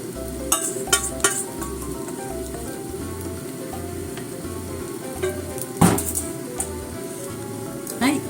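An onion pancake frying over medium heat in a covered pan gives a steady, moderate sizzle, broken by a few sharp clatters and taps close by.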